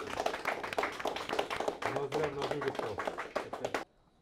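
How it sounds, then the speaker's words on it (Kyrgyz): Rhythmic group clapping from a quiz-show audience in support of a team, loud and close, mixed with voices, then cutting off abruptly into silence. "Бир команданы колдоп кол чаап коелу."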